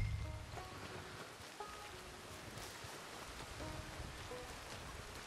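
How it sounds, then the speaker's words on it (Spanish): Steady rain pours down across the whole stretch in the video game Red Dead Redemption 2, a dense hiss of drops with a faint tonal hum in the background. "como está lloviendo"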